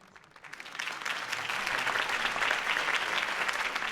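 Crowd applause rises after a mayoral campaign speech in the Telltale Batman game, starting thin and swelling into steady, full clapping that holds to the end.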